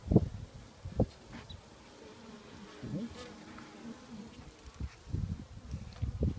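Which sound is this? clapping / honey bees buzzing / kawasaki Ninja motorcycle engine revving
honey bees buzzing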